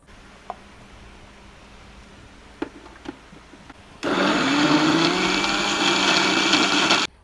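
A kitchen blender grinds onion, ginger, garlic, green chilli, cashews, poppy seeds and melon seeds into a spice paste for Bengali-style chicken chaap, its loud steady whir kicking in after a few quiet clicks and running for about three seconds.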